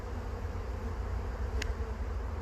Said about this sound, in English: Some very dark bees in here.